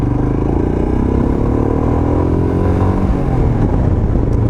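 A 2021 Royal Enfield Himalayan motorcycle pulls away in first gear with a loud, close engine drone whose pitch rises steadily as it accelerates, alone without voices.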